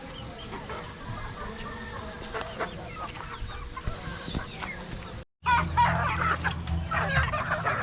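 Hungry chickens in a small farm coop cluck and squawk in scattered bursts, fairly close over a bright steady insect-like hiss, with a short gap before livelier clucking resumes.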